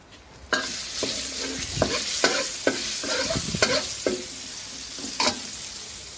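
Pork and red Thai curry paste stir-fry in a pan, a steady loud sizzle punctuated by repeated sharp scrapes and clacks of a spatula, close by.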